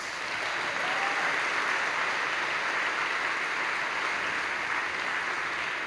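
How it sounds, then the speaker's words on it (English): A high school spring concert audience applauds student performers, a dense, steady wash of many hands clapping from start to finish, loud and unbroken with no talk. "Let's give all of Corral another round of applause."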